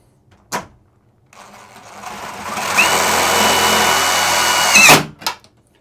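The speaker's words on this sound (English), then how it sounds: "we got to go ahead and add our second self-tapper" A power drill drives a self-tapping screw into a shower door frame during an RV install: one steady whirring run of about four seconds, close and loud, framed by a few sharp knocks before and after.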